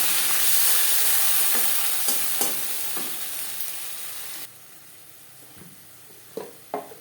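Panch phoron and torn bay leaf sizzling in hot oil, a loud steady crackle that eases partway through, with a few spoon scrapes against the pan toward the end.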